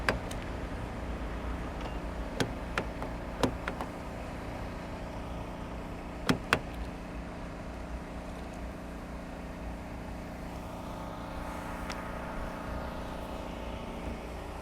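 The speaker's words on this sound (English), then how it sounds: "let me take it for a drive and see if it cuts off." Steady low rumble of a Mitsubishi Outlander being driven, heard from inside the cabin, with a few sharp clicks and knocks over the continuous road and engine noise.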